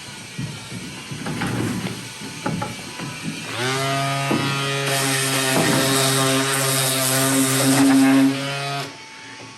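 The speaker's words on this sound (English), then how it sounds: "I hear a sander, and that's the hand sander." A battery-powered 5-inch orbital hand sander smooths rough-sawn fir and larch window and door trim, starting with brief scattered contact noises and then running as a steady, loud, close whine for several seconds before stopping.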